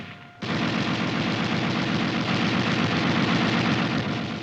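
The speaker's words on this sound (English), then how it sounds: "This machine gun is used primarily on tanks and is coaxially mounted with the main gun." A 7.62 mm M73 tank machine gun, coaxially mounted and air-cooled, fires one sustained loud automatic burst of rapid, evenly spaced shots after a brief quiet start.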